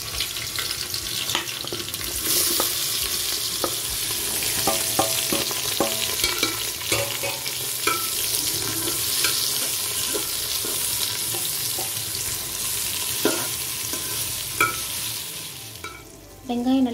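Onions and green chillies frying in a pan for mutton biryani, with a steady sizzle, occasional stirring scrapes and clinks, and a brief tap-water sound near the end; no one speaks.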